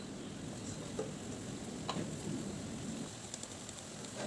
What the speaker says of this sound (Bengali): মশলা ভাজা প্রায় হচ্ছে, এরই মধ্যে দিয়ে দিলাম টমেটো পেস্ট।